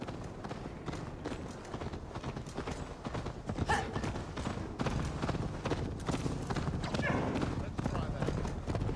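Galloping horse hooves in Assassin's Creed Valhalla, a steady clip-clop under loud game music and character voices talking, with a brief whinny.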